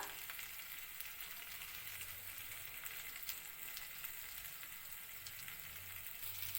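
Spice paste of ginger, chili, turmeric and cumin frying in a pan for a fish and potato curry, a soft steady sizzle with faint crackles, quiet and uninterrupted.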